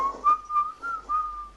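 A person whistles a wavering, sustained tune in short phrases, clear and close, with no other sounds.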